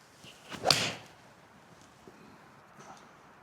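A single sharp crisp strike of a Srixon iron hitting a golf ball, followed by quiet outdoor ambience.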